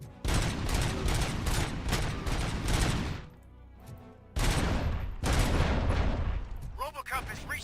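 Rapid, heavy gunfire fills a firefight in the RoboCop: Rogue City video game: dense bursts of shots, a brief lull, then more sustained firing. A voice speaks over the shooting.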